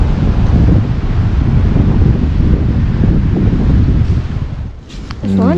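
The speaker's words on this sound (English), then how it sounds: "It's so windy." Strong, steady wind roars and buffets the microphone on a cold mountain hiking trail in north Georgia, a loud continuous rush that eases briefly near the end as a voice starts.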